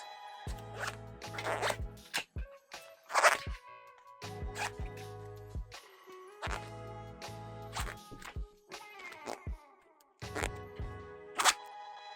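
A zipper closes around a luggage compression cube stuffed with sweaters and a cardigan, heard as repeated close, rasping zip strokes in short bursts separated by pauses over several seconds.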